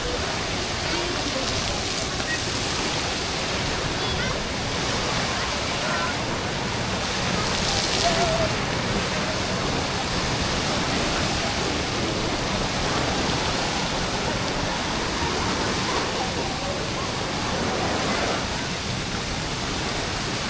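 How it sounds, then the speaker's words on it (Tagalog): Water at a water slide surges and splashes in a steady, dense rush that holds for the whole stretch, with faint voices in the background. "Ay, may alon pa Rob oh."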